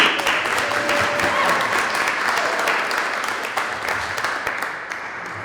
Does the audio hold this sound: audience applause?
yes